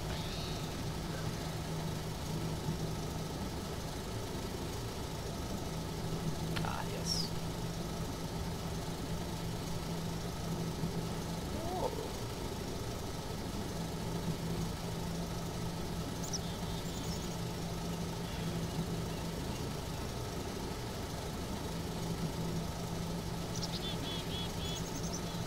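A locomotive engine on a rail-link train idles with a low, steady rumble that continues throughout at a moderate distance, with faint squeaks and clicks over it.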